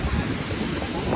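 Sea waves surging on a windy shore, a steady broad wash of surf with wind buffeting the microphone, continuous and fairly loud throughout.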